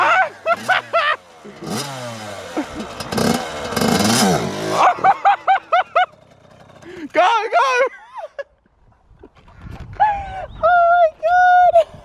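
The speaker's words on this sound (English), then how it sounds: "It doesn't idle, you gotta keep giving it a bit of gas." A Yamaha YZ85 dirt bike that won't idle is revved in rising and falling bursts of throttle. The engine sounds alternate with people talking nearby.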